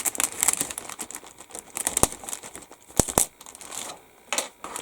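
Tight plastic bags holding green plastic model kit sprues for a 1/35 AFV Club gun truck crinkle and rustle up close in irregular bursts, with sharp crackles scattered through.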